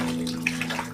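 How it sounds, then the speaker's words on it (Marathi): Water poured into a container of freshly gathered river shellfish in rural Konkan, a brief splashing, gurgling pour with small bright splashes, close by and alone. "ह्याच्यात काय पाणी टाकताय?"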